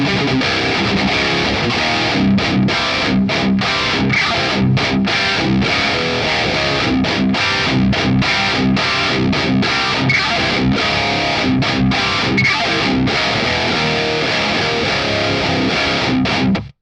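A guitar through an EVH 5150 III 50W tube amp with the boost engaged roars with thick, saturated distortion, playing tight palm-muted chugs broken by short choppy stops, loud and continuous throughout.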